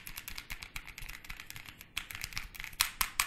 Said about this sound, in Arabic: ده صوت الكيبورد اللي معايا النهاردة.